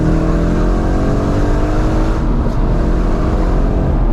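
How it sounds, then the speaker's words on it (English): A V8 car engine revs loudly and steadily, its deep rumble rising and falling slightly with throttle, close and continuous with no voices. "Love a V8. It just sounds so good,"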